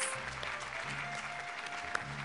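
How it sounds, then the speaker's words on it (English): An audience at an event in India claps in a steady, continuous round of applause, fairly quiet and distant, with a low musical hum playing beneath it and one brief sharper clap standing out near the end. "A huge round of applause for you, please."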